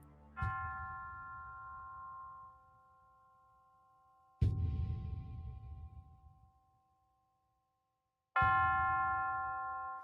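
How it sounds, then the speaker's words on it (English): The Mental Health Bell, cast from melted restraints, is struck three times at slow spaced intervals, each strike a clear resonant ring that fades slowly and stands alone. "forged into a bell that would forever ring out hope and victory over mental illness"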